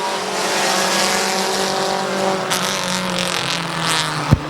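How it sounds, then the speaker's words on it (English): Race cars battling for the lead on Midvale Speedway, a loud steady engine roar sustained throughout as the cars run together, ending with a brief sharp crack. "Those two battle for the race lead off at turn number 2."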